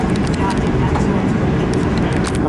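A loud, steady, broadband mechanical roar with a low rumble from a V/Line train's dynamic braking, continuous throughout.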